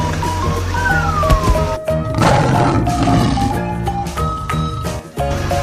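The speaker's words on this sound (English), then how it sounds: "Lion." A cartoon lion gives one long, loud roar in a 3D animated animal show, over backing music and effects.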